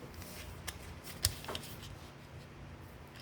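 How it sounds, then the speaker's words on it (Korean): Sheet of paper folded in half for a Ballerina Cappuccino origami figure: a few soft, crisp creasing rustles with one sharper crackle near the middle, quiet and close, no talking. "반쪽으로 이렇게 접어주세요"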